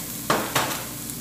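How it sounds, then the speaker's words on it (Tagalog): Garlic drops into a hot frying pan in two quick sizzling bursts, each hiss rising sharply and then fading into a soft background crackle. "Add natin yung garlic."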